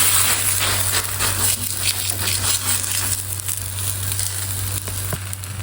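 Msemen flatbread dough laid in a hot oiled pan, a steady close sizzle with crackling pops over a constant low hum, no voices.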